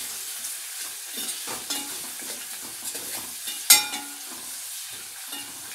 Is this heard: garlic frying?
yes